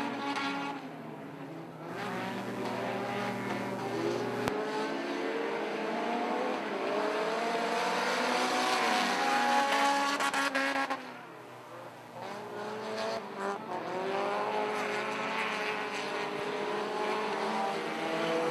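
Pro 4 race cars battling for the lead on a racetrack, loud engines roaring and revving past with a brief drop and then a swell as the cars return.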